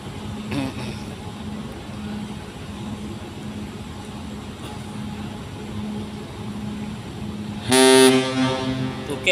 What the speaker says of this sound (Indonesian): tanda klakson Potlin 3 ya, tot gitu, bunyi tot-tot teman-teman